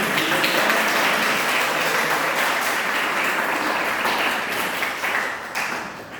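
A church congregation claps together during a worship service, steady, dense applause that carries on for several seconds before gradually thinning out near the end.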